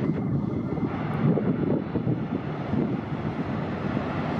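A Korean Air Super heavy jet departs runway 24 left at LAX, giving a steady, moderately loud rumbling engine roar heard from a distance, mixed with wind buffeting on the microphone and no talking.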